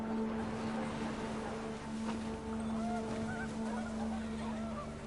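Panicked geese honk in the video game What Remains of Edith Finch, their calls rising over a steady, windy rumble that fills the whole stretch.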